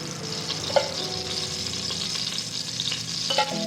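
Oil and ghee sizzle in a pot for mutton biryani, a steady close frying hiss with a couple of sharp clinks of a spoon against the pot.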